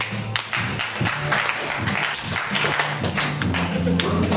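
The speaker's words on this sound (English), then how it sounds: "So clap, so clap, so clap." Hand claps keep a steady beat during a breakdancing lesson, tapping regularly under music with a strong bass line.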